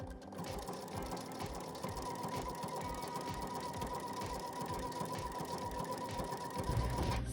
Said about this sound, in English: I have this Singer Heavy Duty, and to top stitch, I like to do number 2, which is this triple stitch here.